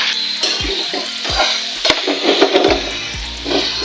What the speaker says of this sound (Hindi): इस स्टेज पे अब जो ये ऑयल है इसमें मैं डालूंगी अपना चिकन